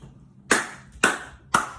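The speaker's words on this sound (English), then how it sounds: "Again, do as many claps as you want. I'm going to try 3 this time." Three sharp, close hand claps land at even intervals about half a second apart during a home wheelchair tennis workout push exercise, with quiet room tone between them.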